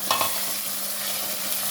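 Chicken pieces with garlic and ginger fry over golden onions in a pan, giving a steady close sizzle with a couple of brief stirring scrapes near the start.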